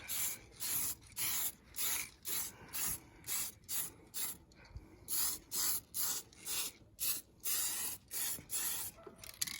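An aerosol spray paint can coats a Baja 5T RC car body in short, even bursts of hiss. About fifteen regular sprays come in quick succession with brief pauses between them, close and fairly soft.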